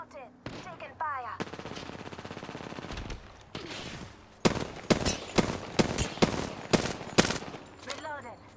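Gunfire in an Apex Legends arena match: sharp, loud bursts of automatic weapon shots in rapid clusters, with brief character voice lines in between.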